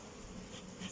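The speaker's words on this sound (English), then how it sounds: "Not happy bees" Agitated honey bees swarm around an opened, broken-down hive during frame removal, a dense continuous buzzing hum close by, steady and unbroken.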